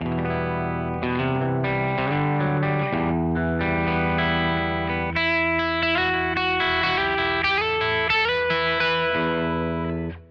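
An electric guitar runs through a Kemper Profiler amp profile, with a continuous distorted run of chords and notes. The tone is full and steady with light chorus and reverb, and there are no voices.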